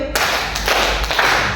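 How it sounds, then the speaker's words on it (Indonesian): A seminar audience claps in unison in a short, dense burst of hand claps, loud and close, with no talk over it. "kalau sore maka tepuknya 3 kali Bapak Ibu, kanan, kiri, dan tengah"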